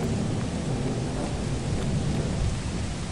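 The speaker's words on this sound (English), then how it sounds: "Why is it raining?" Heavy rain pours steadily in the video game Lethal Company, a dense, loud wash of noise with a low rumble underneath and no voices.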